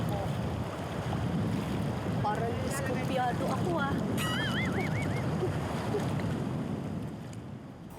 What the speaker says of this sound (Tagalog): Parang malakas ang alon dito